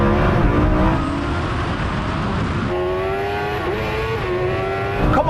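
A twin-turbo Lamborghini Huracan and a Kawasaki H2R accelerate hard side by side in a drag race, engine notes climbing through gear changes in loud, continuous rising pitches with no talk.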